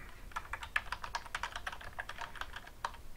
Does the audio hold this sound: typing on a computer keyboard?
yes